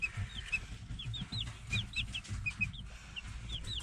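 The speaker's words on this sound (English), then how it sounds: "So here's my little chickies." Young chicks with growing pin feathers peep and cluck close by in quick, high, repeated calls over a low background rumble.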